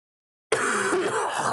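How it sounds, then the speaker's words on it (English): A single harsh throat clearing bursts in after silence, a loud raspy grunting rumble sustained for about a second, close to the microphone. "Apologies about all the coughing"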